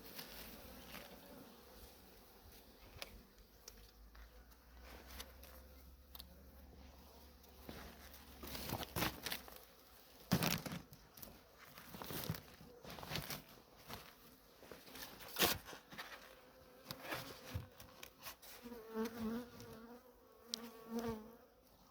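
Honeybees buzz in a low, steady drone close by at a hive in winter, with scattered clicks and taps around them.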